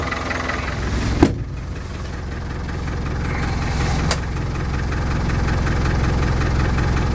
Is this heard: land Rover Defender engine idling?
yes